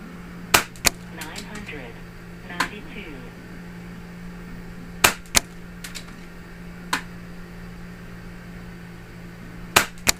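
Avenger .22 air rifle firing Impulse Air 22 grain slugs: a series of sharp, close cracks, about eight shots at irregular intervals, over a low steady hum.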